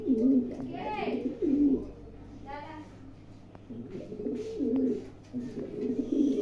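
Tiger Gizel racing pigeons coo up close in a loft, making repeated low throaty burbling calls in a loose rhythm. The calls rise and fall over several seconds with faint background murmur.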